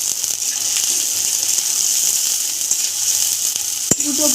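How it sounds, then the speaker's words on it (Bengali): Chopped onions and bay leaf frying in hot oil, a steady close hiss and crackle that runs without a break, with one sharp tap near the end. "এখন আমি এর মধ্যে দিয়ে দিচ্ছি তেজপাতা আর দিচ্ছি পেঁয়াজ কুচি। পেঁয়াজটাকে ভালো করে ভেজে নিচ্ছি।"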